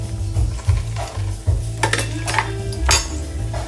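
Garlic sizzles in a pot of chickpea stew being made, a close frying hiss broken by a spoon scraping and clinking against the pot in short bursts.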